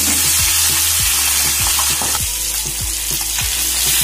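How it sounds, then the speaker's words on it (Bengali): Catla fish heads fry in oil in a pan, with a loud, dense, continuous sizzle and regular low knocks as the pieces are turned and stirred. "বেশ কিছুক্ষণ সময় নিয়ে কাতলা মাছের মাথাগুলোকে উল্টে পাল্টে ভেজে নিতে হবে।"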